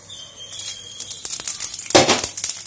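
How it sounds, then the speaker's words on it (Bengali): Whole spices dropped into hot mustard oil in a kadai for a pumpkin and potato curry, crackling and sizzling with sharp pops and clinks rising in a burst toward the end. "সর্ষের তেলে রান্নাটা করব। বন্ধুরা, তেলটা আমার গরম হয়ে গেছে। এরপর আমি এক এক করে ফোড়নগুলো দিয়ে নেব।"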